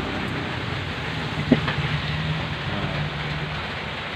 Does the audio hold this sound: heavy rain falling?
yes